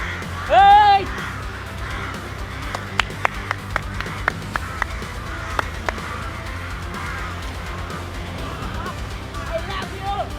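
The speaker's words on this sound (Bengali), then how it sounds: "এতগুলো কাক আমি আমার সারা জীবনও দেখি নাই" A large flock of crows caws continuously in the background, with a louder close call near the start and scattered sharp clicks or claps in the middle.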